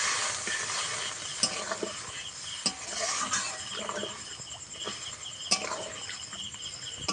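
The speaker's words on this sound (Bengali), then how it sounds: "মেপে 1 বাটি জল দেব।" Water poured into a pan of sizzling duck egg curry, a steady broadband sizzle and hiss with stirring, a few sharp clinks of utensil against the pan punctuating the frying noise throughout.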